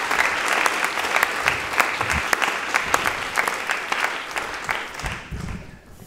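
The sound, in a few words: audience applause at a debate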